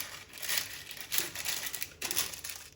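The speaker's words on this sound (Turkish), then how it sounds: "Diğer yağlı kağıdımızı getiriyoruz." Baking paper crinkled and crumpled while lining a brownie pan, a few soft bursts of close, quiet crackling rustle.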